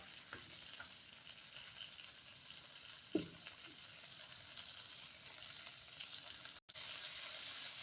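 Chopped garlic and rampe frying in butter in a pan give a steady, soft sizzle throughout, with one brief stir or clink near the middle and no talking.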